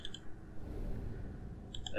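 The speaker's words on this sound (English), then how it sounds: "I'm sure you can hear my frantic clicking in the background" Computer mouse clicks while playing the puzzle game The Room Two: a few quick, faint clicks at the very start and another small cluster near the end, with a quiet gap between.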